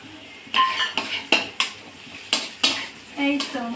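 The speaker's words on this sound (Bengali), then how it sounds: "এবার আমি ভেজে রাখা চিংড়ি মাছগুলো দিয়ে দেবো" Fried prawns are tipped into a bitter gourd stir-fry, giving a run of sharp metallic clinks and scrapes of a spatula against the pan over a light sizzle, close up and uneven in rhythm.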